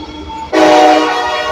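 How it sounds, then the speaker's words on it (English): A train's horn blares suddenly and loudly, close by, sustained and steady after a quieter rumble of the passing train. "I couldn't have foreseen the train coming"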